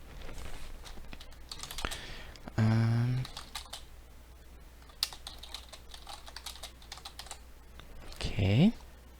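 Typing on a computer keyboard while writing notes for a Python coding project, a quiet, steady run of soft key clicks with a few louder bursts.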